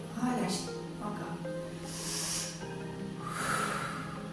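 Deep breathing during a shoulder mobility exercise, with audible breathy inhales and exhales rising and falling in slow cycles under a soft background hum.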